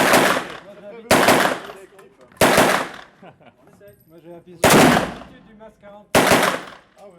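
Five loud, sharp gunshots from a harsh-recoiling gun boom through an indoor shooting range, spaced irregularly about a second or more apart, each with a long reverberant tail and quiet room noise between.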